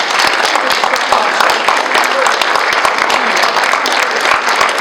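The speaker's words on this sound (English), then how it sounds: "just give her a round of applause for what she's done for this town" An audience at a community event in Wellsville, Utah applauds loudly and steadily, a thick wash of many hands clapping together without a break.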